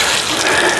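Hose water spraying over a black Corvette C8 during a wash, a brief loud, broad hiss of rushing water up close with no talk.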